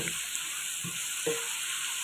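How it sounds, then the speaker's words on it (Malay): Cabbage and kaffir lime leaves stir-fried in a pan, a soft steady sizzle with a few brief clinks and scrapes of stirring, no voices. "Tumis-tumis sampai layu."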